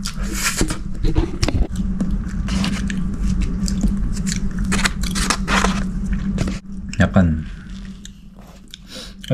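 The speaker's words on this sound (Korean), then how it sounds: "한번 먹어보겠습니다" Close-up bites and chewing of a mango-flavoured dessert with a corn-like texture, eaten on a trip to Hong Kong; soft crunching and wet mastication continue throughout, with a brief louder bite toward the end.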